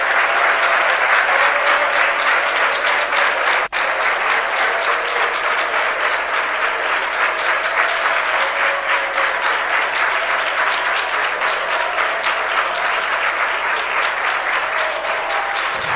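An evening fasting-prayer church congregation claps hard and continuously in praise, a loud, even, rapid wash of many hands held steady throughout with no speech on top.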